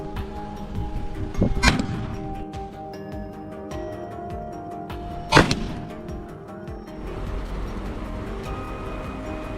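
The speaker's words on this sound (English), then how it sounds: "Gunshots rang out one after another" Two sharp, loud rifle reports several seconds apart ring out in a forest during a wild boar hunt, each trailing off over steady background noise.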